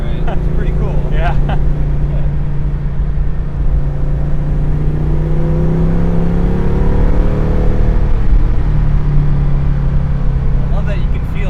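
Old car engine running at a loud, steady idle that shakes its shaker hood scoop, a continuous low rumble with slight pitch wavers and occasional voices heard over it.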